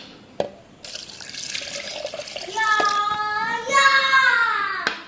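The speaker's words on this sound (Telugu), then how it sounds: "ఇదిగో ఈ పల్పు వేసి నేను ఇప్పుడు మళ్ళీ ఈ నీళ్లు కూడా పోసి" Water is poured into gac fruit pulp for juice, a close, bubbling stream whose pitch climbs as the vessel fills, with a few sharp clinks and soft voices in the background.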